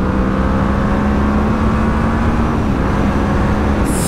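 A 2024 QJ Motor SRV 600 V motorcycle with a four-cylinder engine drones loud and close at high revs, its steady, dense engine note held without a break for several seconds.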